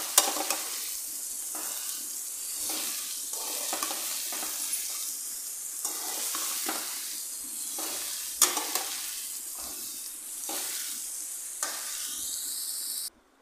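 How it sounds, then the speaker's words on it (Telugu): Chopped ridge gourd stir-fried with tempering in a pan on low heat: a continuous sizzle punctuated by rhythmic scraping strokes of the spatula, close and steady, ending abruptly, with no voices. "అవి యాడ్ చేసేసుకొని మొత్తం మిక్స్ చేస్తూ పోపు మొత్తం బీరకాయలకు పట్టేలాగా ఈవెన్గా మిక్స్ చేస్తూ సిమ్లో ఉంచేసుకొని బాగా ఫ్రై చేసేసుకోవాలి ఒక 5 minutes."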